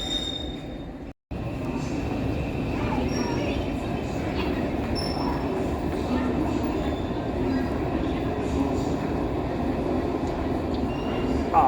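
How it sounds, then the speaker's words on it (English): A Thameslink train runs on the Greenwich line, heard from on board as a steady rumbling roll with faint wheel squeals and occasional clicks, continuous apart from a momentary cut near the start. "On the 14:16 Thameslink service to Cambridge."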